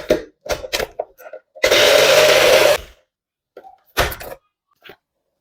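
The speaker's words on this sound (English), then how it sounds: "I am going to blend it now" A kitchen blender whirs loudly for about a second while blending cooked rice for a homemade hair conditioner, with short knocks and brief voice sounds before and after.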